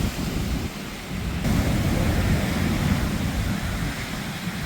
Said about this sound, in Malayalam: എത്രത്തോളം ഉയരത്തിലാണ് തിരമാല വരുന്നത് എന്നുള്ളത് കണ്ട നോക്കിട്ടാ